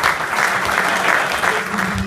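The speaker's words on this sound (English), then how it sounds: "James Hall, let's give him a big hand of applause." Dense, sustained audience applause fills the whole stretch at a steady volume, a crowd clapping together at a gentlemen's event, with faint voices mixed underneath.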